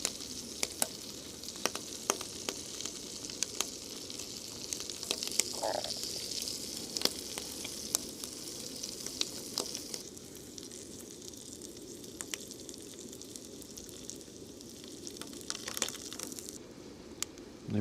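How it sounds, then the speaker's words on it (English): Sausages sizzling in a small frying pan on a Jetboil camping burner, a steady close crackle and spit with scattered pops running for the whole stretch, no talk. "Never cooked a hot dog in a frying pan before."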